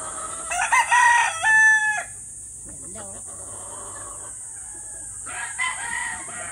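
A rooster in a breeding pen crows loudly and close in a stretched call, then chickens cluck more softly, followed by a shorter second crow near the end.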